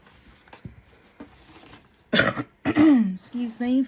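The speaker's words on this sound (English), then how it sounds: "Excuse me for coughing." A couple of sharp coughs from a nearby man, following quiet fumbling sounds, then a brief throat-clearing rasp and voiced noises.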